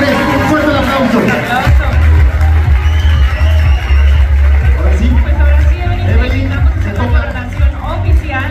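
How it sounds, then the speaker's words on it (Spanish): A crowd at a Miss México beauty pageant cheers and whoops loudly and continuously over booming low music, with a dense babble of voices throughout. "Un fuerte aplauso."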